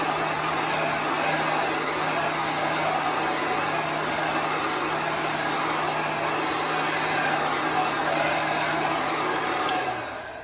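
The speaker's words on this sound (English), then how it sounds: "This is an industrial heat gun from Uline." An industrial heat gun from Uline blows steadily over a surface to dry it, a loud, constant close-up whirring roar of fan and hot air that holds unbroken for about ten seconds before easing slightly at the end.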